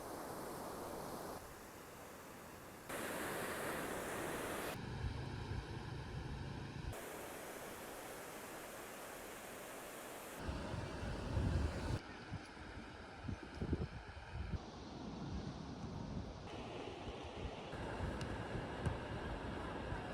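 Surf washing onto a beach, a steady broadband roar that swells and recedes in long irregular surges, close and fairly loud, with no voices.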